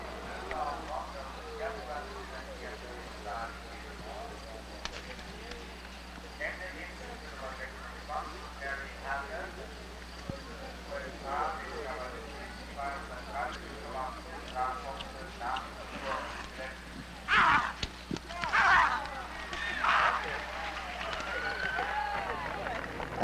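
A horse gallops over a cross-country eventing course at the 1978 World Eventing Championships in Lexington, Kentucky, hoofbeats drumming steadily and faintly under a commentator's voice, with louder thuds near the end.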